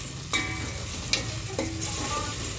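Masala for paneer curry sizzles gently in oil on a low flame, a steady close frying hiss broken by a few sharp spoon scrapes and taps as it is stirred.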